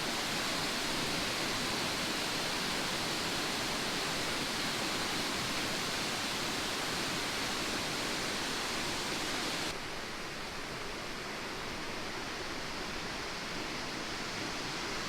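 Wangi Falls waterfall in Litchfield National Park, a steady, loud, unbroken roar of falling water with no voices, dropping slightly in level near the end.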